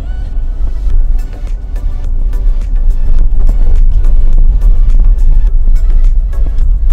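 A Daihatsu Xenia 1.3R with an automatic gearbox kicks down and accelerates, its engine droning loud and steady inside the cabin with heavy low rumble and road noise throughout.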